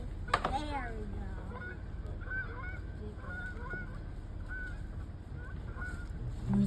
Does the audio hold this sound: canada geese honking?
yes